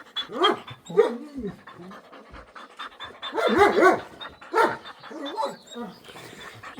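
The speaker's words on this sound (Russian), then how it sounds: "Ось і моя собака." A dog pants in quick bursts and gives short whimpering barks close to the microphone, with a voice chatting in between.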